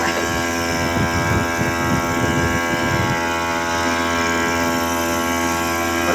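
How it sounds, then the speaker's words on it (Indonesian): Grass cutter engine mounted on a drum boat, running under test, a loud continuous buzzing drone with a rougher, busier stretch in the first half, then a steadier hum, with no talk. "Mesin rumput dan modif dengan mesin aslinya di belakang."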